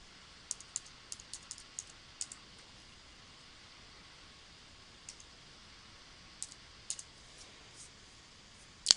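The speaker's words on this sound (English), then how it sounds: "we're going to type the word ping, and we're going to type the server's IP address" Light clicks of typing on a computer keyboard as a ping command is entered, a few scattered quick bursts of keystrokes over a quiet, hissy room background.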